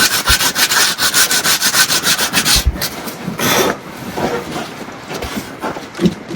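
A hand chisel carving wood the old-fashioned way, giving close, rhythmic scraping and rasping strokes that repeat steadily with a few sharper knocks along the way.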